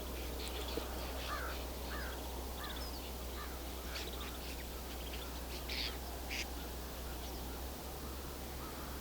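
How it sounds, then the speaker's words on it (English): A large flock of snow buntings calls in winter, with faint, scattered high chirps and twitters over a steady low rumble of wind or background noise. "So snow buntings fly down from the Arctic each winter."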